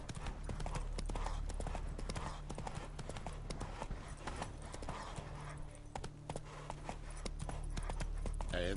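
Hooves of Roach, a horse in The Witcher 3 video game, in a continuous galloping clip-clop, steady and close over low background music, with no talking.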